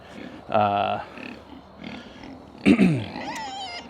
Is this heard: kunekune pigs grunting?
yes